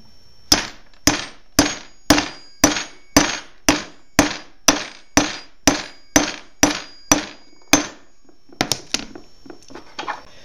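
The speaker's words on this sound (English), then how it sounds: "I'm going to take a hammer and I'm just going to tap it down" A hammer taps a concrete anchor into a hole with about thirteen sharp, evenly spaced, ringing blows, followed by a few lighter, quicker taps as it finishes.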